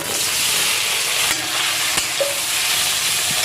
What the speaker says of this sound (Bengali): ওই তেলের মধ্যে সোয়াবিনটা ভেজে নেব